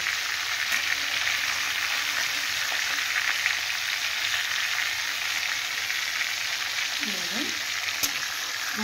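Pieces of rohu fish frying in hot oil give a steady, dense sizzle that holds close and loud throughout, with a faint voice briefly audible underneath near the end.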